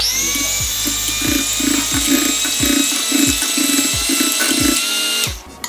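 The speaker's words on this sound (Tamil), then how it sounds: "இந்த முட்டையை மட்டும் லைட்டாக கம்மியான பீட்டில் வச்சு நம்ம பீட் பண்ணிக்கலாம்" Electric hand mixer beating eggs at low speed for a New Year cake, a steady whirring motor with rhythmic thumps of the beaters against the bowl, close and loud, stopping abruptly at the end.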